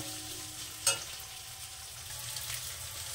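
Chopped onion lightly frying in a pan for palak paneer, a steady soft sizzle running throughout with one brief sharper crackle near the start.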